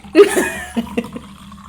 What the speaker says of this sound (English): Listen and pour it on the mic.